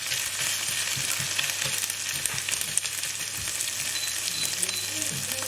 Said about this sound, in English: So let's fry these onions down now